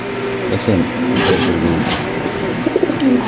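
Racer pigeons coo in a series of low, soft calls while being held and handled, set against steady background noise with people talking nearby.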